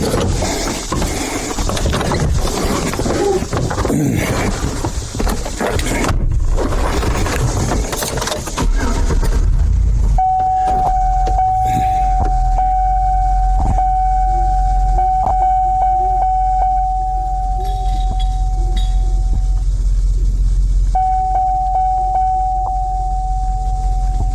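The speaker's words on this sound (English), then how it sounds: "I got it hooked up to the truck. Let's give it a pull and see what happens." A truck engine hooked to a log, running loud and rough with heavy low rumble, then settling into a steady throbbing idle with a sustained whine over it.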